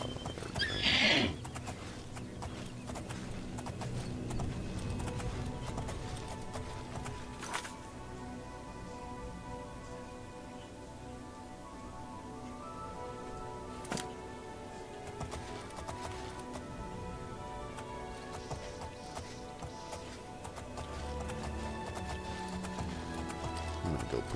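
Horse in the Oblivion video game neighing near the start, followed by steady clip-clop of hooves and game ambience running throughout, fairly loud and without speech.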